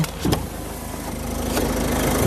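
A 2018/19 Ford EcoSport Ambiente car engine idles steadily with a low, even hum, a brief knock or click near the start, and no talking.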